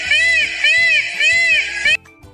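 A peacock's loud, repeated wailing calls, three or four in a row, high and nasal, with a faint rhythmic background beneath.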